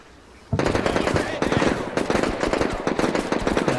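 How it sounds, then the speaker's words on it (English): Sustained machine gun fire crackles in rapid bursts during urban combat in Combat Mission Shock Force, loud and close, with dense overlapping shots and echoing reports that continue without pause. "Yeah, they're under heavy fire."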